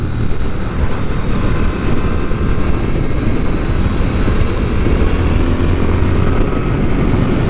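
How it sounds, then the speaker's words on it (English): A Triumph Speed Twin motorcycle on its standard exhaust runs with a continuous low, even engine drone at steady revs, close and fairly loud throughout, with no talking. "This is now the standard exhaust. It still sounds pretty good to me."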